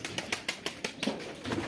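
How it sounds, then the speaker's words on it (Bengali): Pigeons on a farm, a quick rhythmic series of wing flaps with soft low cooing beneath, close by and brief, with no talking. "কবুতর, হাজার হাজার কবুতর,"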